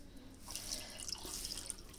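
Hot water poured into a pressure cooker holding hilsa fish, a short, faint trickling and splashing stream that runs continuously for a couple of seconds.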